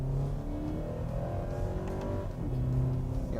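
A 2014 Scion FR-S sports car with 200 horsepower accelerates in manual paddle-shift mode. Its engine hums steadily and rises in pitch, heard from inside the cabin without speech.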